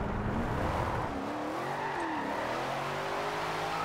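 A Shelby Cobra 427 spinning its rear wheels in Forza Horizon 2, engine droning loudly as the tires squeal with wavering pitch, steady and close with no talk.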